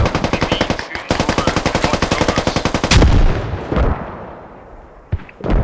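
In the video game Squad, on the Kohat map, a rapid stream of close gunfire cracks in a steady rhythm, then a grenade blasts loudly, followed by scattered shots and rumbling echoes.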